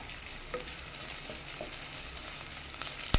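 Curry leaves sizzle in hot oil with onion and masala for a mutton roast, a continuous crackling fry under stirring sounds, with a sharp clatter right at the end.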